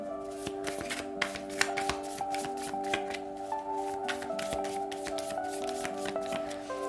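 Tarot cards shuffled by hand for a weekly Taurus reading, giving a steady, close riffling and flicking rustle with small sharp taps throughout, with no talking.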